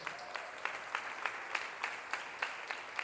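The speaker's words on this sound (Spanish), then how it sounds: "Vamos a darle un aplauso al Señor." Congregation at a church service applauding together, a steady wash of many hands clapping with brief rhythmic swells, moderately distant and without talk.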